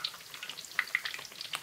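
Food deep frying in hot oil, a dense crackling sizzle with scattered sharp pops and bubbling bursts, steady and fairly close throughout, with no voices.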